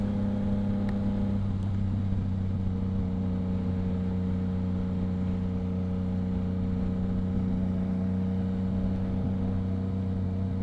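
Yamaha MT-09 motorcycle engine while riding, a steady, low, smooth drone with constant rumble and faint wind, continuous and fairly loud throughout with no talking.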